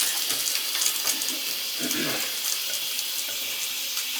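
A house shower runs with weak water pressure, giving a steady, even hiss of falling water that continues unbroken from start to finish, close by and with no voices over it.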